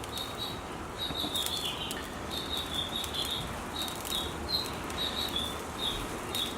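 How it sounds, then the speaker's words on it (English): Small birds chirp in quick, high bursts repeatedly over a steady outdoor rumble of breeze, fairly close and moderately loud. "Don't mind the little finches in the background."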